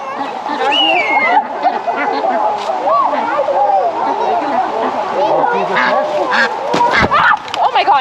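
Ducks and geese being fed, honking and quacking continuously in a noisy cluster close by, with people chattering throughout.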